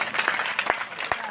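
A live audience claps together at a poetry recitation, a dense burst of hand claps lasting about a second with a voice mixed in.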